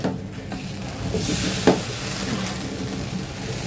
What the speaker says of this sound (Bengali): এই যে এটা আরেকটা নাড়াচাড়া দিব